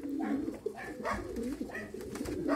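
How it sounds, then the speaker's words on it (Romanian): Racing pigeons cooing close by in a loft or transport crate, soft throaty rolling coos overlapping in a continuous murmur, with some muffled shuffling and wing movement. "am dus porumbei la mașină"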